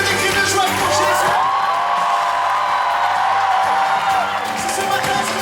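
A worship congregation at a church gathering shouts and cheers with cries of joy, a loud, dense wash of voices and yells that fills the room continuously, with music sustaining underneath.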